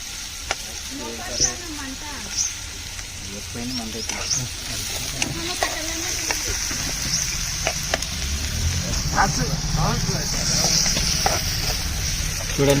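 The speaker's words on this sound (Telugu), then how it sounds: "ఫ్రై అవుతుంది" Goat meat curry sizzles and fries in a pan, a steady crackling hiss running throughout with occasional stirring scrapes, while voices talk and murmur over it.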